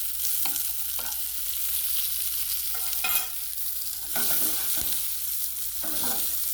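Baby zucchini and onion sauté in olive oil on high heat in a pan, a continuous close sizzle broken by scraping stirs and clinks.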